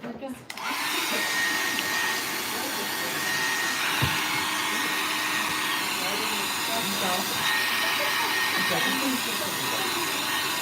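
A handheld dryer blows over a craft project, producing a loud continuous whooshing hiss that runs steadily throughout, with faint speech partly buried underneath.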